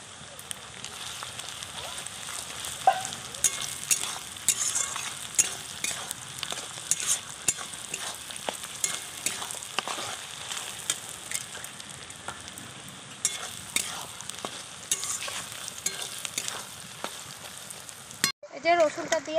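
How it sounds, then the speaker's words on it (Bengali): Crushed garlic frying in hot oil over previously fried, coarsely cut onion, crackling and spitting in quick irregular pops over a steady hiss, close up, with a brief voice at the very end. "তেলে রসুনটা দিয়ে রসুনটা একটু ভেজে নিলাম।"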